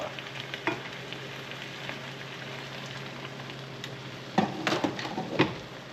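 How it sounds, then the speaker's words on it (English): Broth is stirred into a wild king bolete mushroom risotto as it simmers, giving a soft, steady bubbling hiss with a few louder scraping stirs near the end, no voices. "You're gonna wanna stir it in constantly until you notice the majority of it starts to evaporate"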